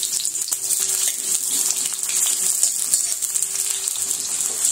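Chopped onions dropped into hot mustard oil for prawn posto, giving a bright, continuous crackling sizzle that holds steady and fairly close throughout, with no one speaking.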